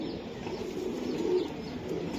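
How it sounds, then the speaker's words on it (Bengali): A big gangchil racing pigeon gives soft low coos close by, a faint steady murmur with one clearer tonal coo partway through and no one speaking. "বিগ সাইজের একটা গাংসিল কবুতর"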